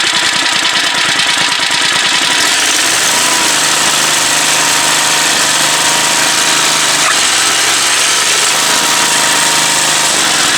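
Troy-Bilt rototiller engine held with the choke and run at full throttle, a loud, continuous close-up roar with a rattling rhythmic pulse that settles into a steady drone.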